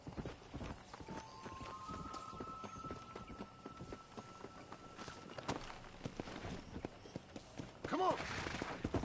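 A horse's hooves clip-clop steadily while ridden in the Red Dead Redemption video game, a close rhythmic patter under game music and a brief whinny-like call, with characters talking over it.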